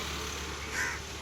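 A crow caws during outdoor bird feeding, a single harsh call rising briefly above steady ambient noise, fairly close.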